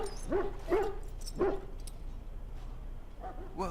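A hound in the video game Dragon Age: Origins lets out three or four short barks and whimpering yelps at a steady pace, close and fairly loud over a constant background hum.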